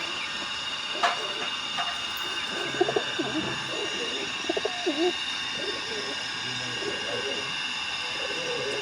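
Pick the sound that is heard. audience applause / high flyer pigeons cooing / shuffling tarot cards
high flyer pigeons cooing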